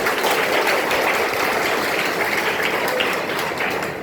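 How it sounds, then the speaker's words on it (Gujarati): An audience claps to welcome a visiting service group at a gathering for blind residents, a dense, sustained round of applause from many hands that tapers slightly at the end. "આપણે સૌ તેમનું તાળીઓથી સ્વાગત કરીએ"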